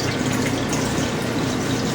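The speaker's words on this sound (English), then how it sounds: "some warm water, and then you just, with your thumbs, start to work it" Continuous loud running and sloshing of warm water as a makeup powder puff is worked with the thumbs, a steady close wash of liquid noise without speech.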